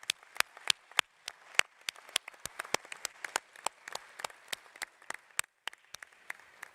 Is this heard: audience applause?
yes